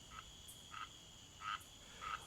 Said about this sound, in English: grumph, croaked the frog. We frogs know how to croak.